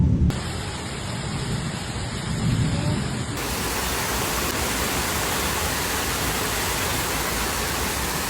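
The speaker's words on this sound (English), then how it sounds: "Some people walked through ankle-deep water as torrential rain fell in Roselle Park" Torrential rain pours down during flooding in Roselle Park, New Jersey, a dense steady roar of falling water that holds at the same loudness throughout, with no voices.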